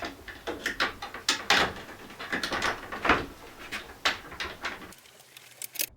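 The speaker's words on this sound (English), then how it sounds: "I'm now just screwing up the inner frame with the supplied screws" Screws are being driven by hand into the inner frame of a Dometic Mini Heki roof light during a van build. Irregular close clicks, scrapes and taps run for about five seconds, then go quiet.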